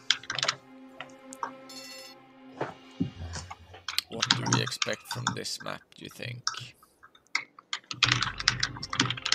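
Clicky computer keyboard typing from a commentator's desk during an Egypt vs Poland national tournament broadcast, rapid uneven keystrokes running throughout under close conversational speech.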